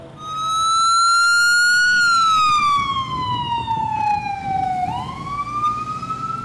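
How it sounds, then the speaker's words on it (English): A Tijuana Red Cross ambulance siren wails loud and close, one long tone sweeping slowly down and then back up, with faint traffic noise beneath. "Ambulances from Tijuana's Red Cross rush to the scene when a shooting occurs."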